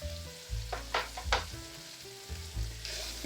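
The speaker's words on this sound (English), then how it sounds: "I like bacon fat. Sounds a little bit more palatable. Let's put it that way. Okay. Onions are gonna go in." Onions dropped into hot bacon fat in a pan over medium heat, a close sizzle with a few stirring scrapes and bursts, fairly quiet and brief, no talking.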